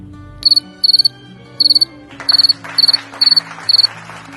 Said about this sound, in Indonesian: kalau jangkrik dewasa itu punya sayap, dan sayapnya itu bisa mengeluarkan suara yang sangat khas